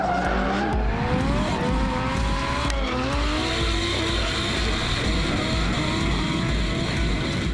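Nissan S15 and Ford Mustang drift cars battle side by side at Hampton Downs Motorsport Park, engines roaring continuously and loudly with rising revs and tire squeal throughout.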